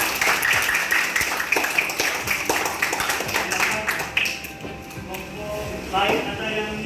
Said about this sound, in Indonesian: kita kasih aplaus dulu untuk kelompok 3.